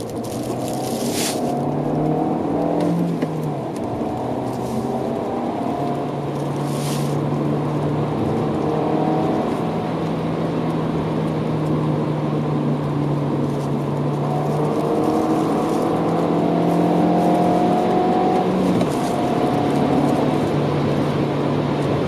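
A car lapping the Nürburgring Nordschleife, its engine droning steadily with a rising and falling pitch across the whole stretch, with light road and wind noise and no talking.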